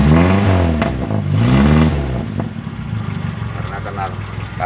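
Motorcycle engine started again and revved, two strong throaty revs rising and falling up close, then settling into a rough idle while someone talks over it.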